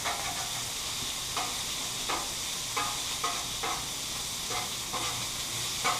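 Bacon grease sizzling steadily on a Blackstone griddle, a close, constant hiss with repeated light scraping and stirring strokes at a loose rhythm, no talking.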